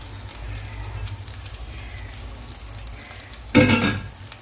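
Cooked rice stir-fries in a pan for fried rice, a steady close sizzle with a sharp louder burst of frying and scraping near the end, and no talk.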